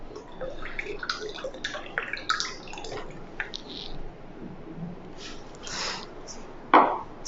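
RO water being poured during a live demonstration makes a soft, steady splashing trickle with a few light clinks, fairly quiet and continuous, ending in a brief louder splash.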